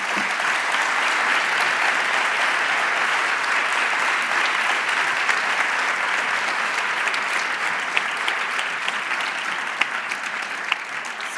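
Loud, sustained audience applause at a university event before a performance of Schumann's Der Traum, a dense, even roar of many clapping hands lasting over ten seconds without a break.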